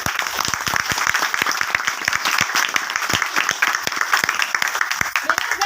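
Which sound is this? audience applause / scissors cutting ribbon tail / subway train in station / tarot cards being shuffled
audience applause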